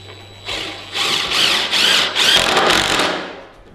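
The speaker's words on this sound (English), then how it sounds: "These are 3-inch screws, and then we'll go ahead and use our impact driver" An impact driver sinks 3-inch screws into the frame of a DIY home power rack in a run of four or five loud, close, buzzing bursts with brief gaps between them. No one talks.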